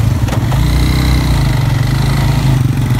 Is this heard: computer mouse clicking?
no